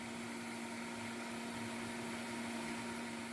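A blender whirls salsa with water, salt and chicken bouillon into a puree, giving a steady, dense motor whine with a constant hum that holds unchanged throughout, close and alone.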